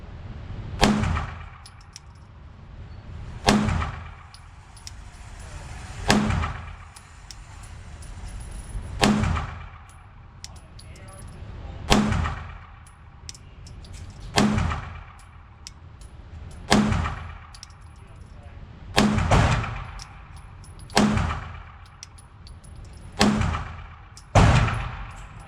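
Ten sharp gunshots from a PSA Dagger Compact 9mm pistol ring out at a steady, unhurried pace over about 25 seconds. Each crack is loud and close, with a brief echoing tail, and no one speaks.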